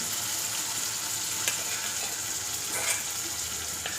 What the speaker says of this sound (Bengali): মশলাগুলো বেশ কিছুক্ষণ ধরে কষিয়ে নিয়েছি, আর এই পর্যায়ে দিয়ে দিচ্ছি আমি মাছ জাল করে রাখা ঝোল এবং মাছ।